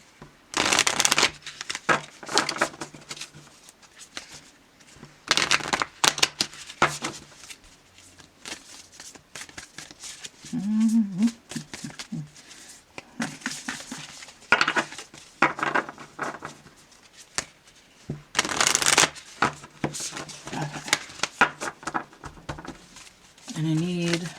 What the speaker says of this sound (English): I'm going to shuffle them a little bit more.